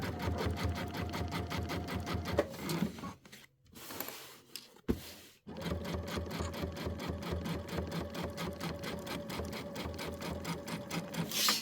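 A sewing machine stitches in the ditch on a Christmas quilt with monofilament thread, a fast steady mechanical chatter close by that halts briefly in the middle and then resumes at an even pace.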